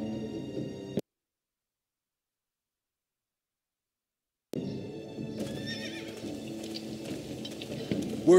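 A horse in Game of Thrones (Telltale) gives a loud whinny amid clip-clopping hooves and outdoor ambience, broken by a stretch of silence before the neighing and movement resume.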